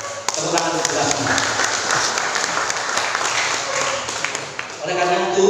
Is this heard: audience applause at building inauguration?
yes